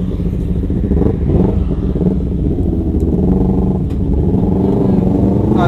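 Sport motorcycles, a Kawasaki Z800 and a Yamaha R6, rumble loudly and rev close by on a night ride through Banda Aceh, with a steady, throbbing engine drone that swells and eases throughout.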